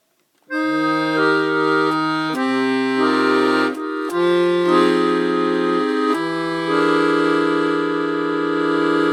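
A Stradella bass accordion plays a sustained melody over held chords, notes shifting every second or two, loud and close with no talking.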